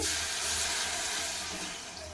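Water pours steadily into a cooking pot in a home kitchen as a gram-flour curry is prepared, a continuous close splashing rush that eases slightly toward the end.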